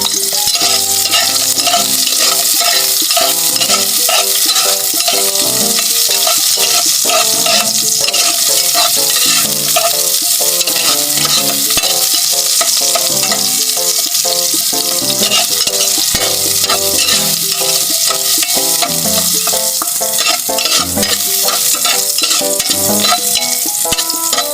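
Garlic, ginger and onion sizzling loudly in a hot pan while a utensil stirs them, giving a steady close frying hiss with constant scraping and clinking, with no voice on top.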